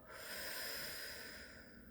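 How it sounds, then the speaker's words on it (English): A deep exhale during a guided breathing exercise, one soft, airy breath lasting about two seconds, close and fairly quiet with no talk over it. "and exhale"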